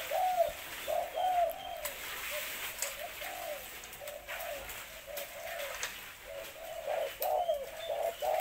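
Young Malaysian spotted dove, a first-season bird, cooing in a steady series of soft, rhythmic phrases, fairly near and clear against a faint background hiss.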